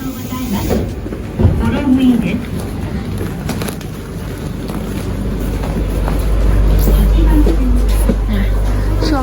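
A busy hum at Sapporo Station in Hokkaido, Japan, with a JR train's rumbling low machinery building louder over time, scattered clanks and some voices talking in the background.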